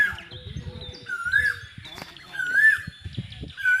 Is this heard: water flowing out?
no